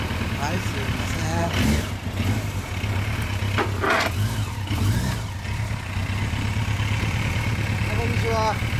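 A Kawasaki H2 750SS Mach IV triple two-stroke fitted with a Denko expansion chamber exhaust idles and burbles continuously nearby, a loud steady engine drone with faint voices in the background.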